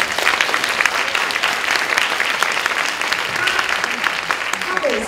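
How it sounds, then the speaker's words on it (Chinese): An audience claps for a speaker at a lecture at Asia University, dense sustained applause from a close crowd filling the whole stretch at steady loudness, with some speech mixed in. "我们给任翔掌声一下。"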